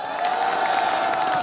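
Crowd cheering and applause at a Korean political rally, a steady sustained roar with a long held whoop or shout riding over continuous clapping throughout.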